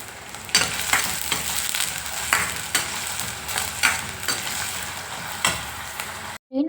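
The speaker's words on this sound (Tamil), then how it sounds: "வெங்காயத்தை நம்ம சேர்த்துக்கலாங்க இப்போ இது கூட வந்து நம்ம பச்சை மிளகா சேர்த்துக்கலாம் நல்லா வந்து ஒரு ரெண்டு மூணு நிமிஷம் நல்லா வந்து வதங்கிட்டோம்" Onions and green chilies sautéing in hot oil for a Tamil okra curry, a steady sizzle broken by repeated scrapes and taps of a spoon stirring the pan, ending with a brief drop into silence.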